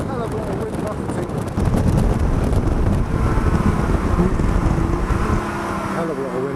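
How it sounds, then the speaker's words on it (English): Heavy, loud wind buffeting roars through the open cockpit of a Lotus 3-Eleven at speed on a track, thick and continuous over the engine drone. "A hell of a lot of wind buffeting."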